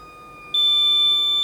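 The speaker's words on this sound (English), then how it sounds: "The alarm goes off." A RespAlert breath monitor's steady high-pitched electronic alarm tone switches on abruptly and holds continuously, loud and close, with no voices.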